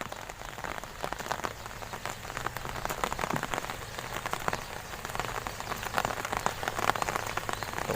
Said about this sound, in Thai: ฝนตกครับ